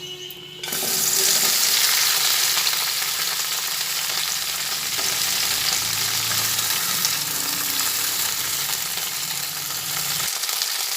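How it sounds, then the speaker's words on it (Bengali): Okra frying in hot mustard oil, with a loud, steady sizzle that starts abruptly and continues close up, broken by occasional stirring. "প্রথমে আমি তেলের মধ্যে ভেন্ডিগুলো দিয়ে ভেজে নিচ্ছি"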